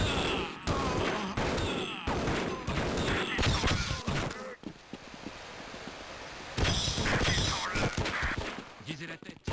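Gunfire from a weapon in the video game Half-Life, loud bursts of repeated shots in two clusters separated by a quieter stretch, close and punchy with an explosive edge.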